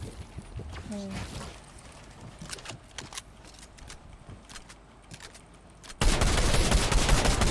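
Gunfire in a Fortnite match during a tournament, rapid bursts and scattered shots under someone talking, then loud sustained firing and game noise in the final seconds.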